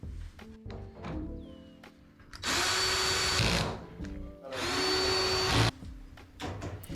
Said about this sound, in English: Now there's 4 screws to secure the bulkhead.